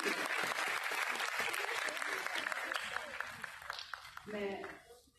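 An audience at a music and arts performance event in Chandigarh breaks into dense, sustained applause that gradually fades, and a voice begins speaking near the end.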